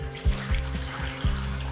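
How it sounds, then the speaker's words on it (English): Brine poured from a container into a bag of wild turkey meat, a close, gurgling stream with several glugging surges over a steady splash, no speech. "And then we're gonna pour our brine in there."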